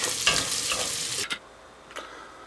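Linguica sausage browns in a pan with a bright sizzle and a few stirring scrapes. The frying cuts off sharply partway through, leaving a quiet room with one brief clatter.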